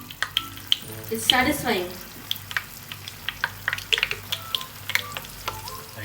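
Paneer cubes crackle and sizzle in hot oil for chilli paneer, a steady broadband fry with frequent sharp pops and spits; a voice speaks briefly over the sizzle partway through.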